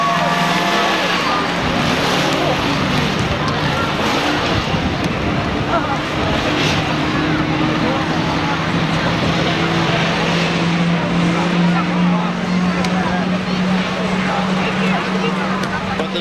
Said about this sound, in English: The buses are here.